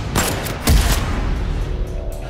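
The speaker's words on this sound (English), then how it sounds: "A few minutes later, gunshots." Gunshots in a crime thriller trailer: a rapid volley of sharp bangs near the start, followed by a heavier boom and lingering rumbling reverberation.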